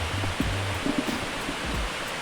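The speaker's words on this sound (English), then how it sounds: "Natural waterfall." A natural waterfall at Smokey Hollow Falls in a wooded gorge, heard as a steady broadband rush of falling water, moderately distant and constant throughout, with a few faint low thumps and rustles nearby.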